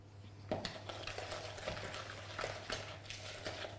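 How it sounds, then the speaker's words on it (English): Beaten egg is slowly mixed into a creamy cornflake and ginger cookie batter, giving soft, quiet wet stirring with faint intermittent clicks of a utensil against the bowl. "We're going to slowly mix in a beaten egg."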